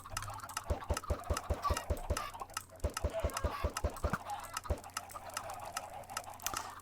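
Minecraft chickens in a game, a run of quick regular clicking clucks in bursts with short gaps, fairly faint over a low hum.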